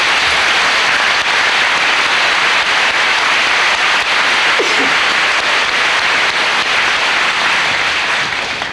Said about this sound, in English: Could we please give these students and businesses a round of applause, please?